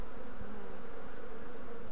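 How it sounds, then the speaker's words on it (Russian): A swarm of bees inside a linden tree hollow gives off a steady, close, dense buzzing drone with no pauses or voices. "А там пчел куча сидит"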